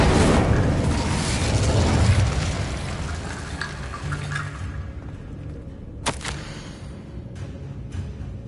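Incendio fire spell cast in Hogwarts Legacy, a loud fiery burst and rumbling whoosh that swells then fades away, followed by a few sharp crackles and snaps near the end, no talk.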